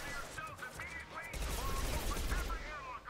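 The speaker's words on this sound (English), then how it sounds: "Why are the prisoners shooting at me?" Prisoners fire on the player in Mass Effect 2, with clustered rapid shots and a heavy low rumble mid-clip under a voice and electronic warbles, heard fairly quietly in the background.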